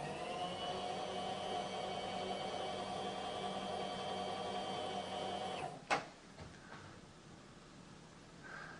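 A machine tool taking a pass along a part clamped in a vise, a steady whirring hum with a high tone that stops abruptly with a clunk, followed by faint mechanical rattles.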